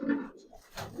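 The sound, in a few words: Giribaz pigeons cooing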